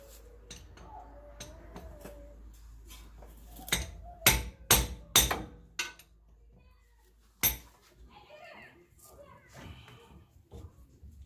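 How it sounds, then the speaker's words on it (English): A hammer strikes the tripod joint out of a Toyota Tacoma 4x4 CV axle, a quick cluster of sharp metallic bangs mid-clip with one more later, amid quiet clinks of tools; a person speaks quietly in between. "hit it with hammer, and then use the pry bar to pry it out"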